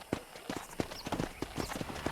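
Horse hooves galloping in Red Dead Redemption while herding cattle at a farm, a rapid, regular clip-clop of sharp hoof strikes, close and clear.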